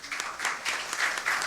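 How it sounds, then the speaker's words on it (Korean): A crowd claps together in a steady burst of applause at a public debate forum, dense and lively, with no voices over it. "큰 격려 박수를 부탁드리겠습니다"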